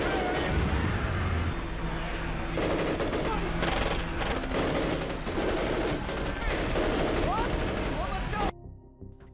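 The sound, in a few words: automatic weapon gunfire in zombie film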